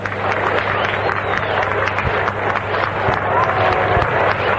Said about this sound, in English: Gets a pretty nice round of applause from the folks as he comes striding up